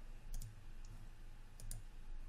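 A computer mouse clicks quietly while a grenade model is textured in 3D software, two quick double clicks about a second apart over a low steady hum.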